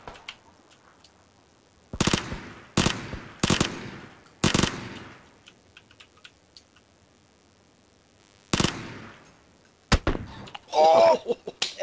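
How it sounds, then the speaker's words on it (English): SKS rifle shots in a shooter video game: loud, sharp single cracks spaced irregularly over quiet stretches, with a brief voice near the end. "One shot through a level 2 helmet with an SKS."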